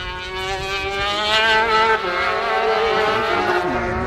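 Superkarts race past on a circuit, a loud, close, high-revving engine whine that holds steady then shifts pitch as the karts sweep by, with no talk over it.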